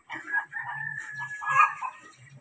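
Farm chickens at feeding time, with a rooster crowing loudly and close over a low, choppy clucking from the flock that runs on throughout.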